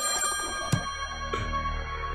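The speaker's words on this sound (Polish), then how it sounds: "telefon zadzwonił" A telephone rings in the video game Slayaway Camp, a bright electronic bell tone with a sharp strike, sounding over steady in-game background music.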